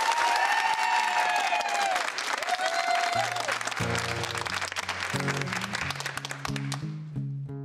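A studio audience on the Studio 10 television set applauds, clapping steadily while a singing voice carries over the top, then a guitar enters and its notes take over as the clapping fades.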